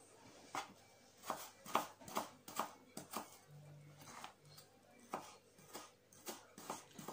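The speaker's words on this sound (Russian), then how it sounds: "Так, нарезаем мелко лук." Knife finely chopping onion on a board, a fast run of sharp, close taps in uneven bursts with brief pauses between.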